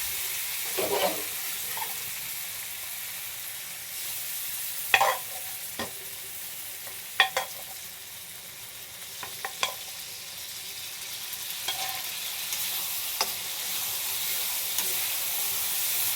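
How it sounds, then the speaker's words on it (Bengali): Spice masala for dal frying in a pan with a steady low sizzle, broken by a handful of sharp, sparse scrapes and clinks of a spoon stirring against the metal; fairly quiet and close, with no talk. "মশলাটা ভালো করে কষাবো, তারপরে ডালটা দেবো এটাতে"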